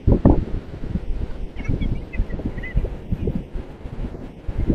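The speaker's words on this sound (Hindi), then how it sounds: "इतनी अच्छी ठंडी ठंडी हवा चल रही है ना" Steady cool wind at a Goa beach buffets the microphone in gusty rumbling bursts, with a faint distant background hum beneath it.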